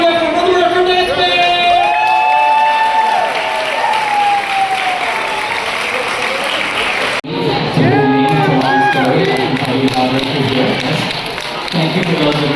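An audience claps and cheers loudly for a swing dance band at a dance contest, sustained applause and shouts running throughout, with a voice talking over the crowd.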